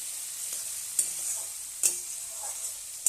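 Meat fries in a pan with a steady background sizzle while a utensil stirs it, scraping and clinking against the pan about three times at uneven intervals.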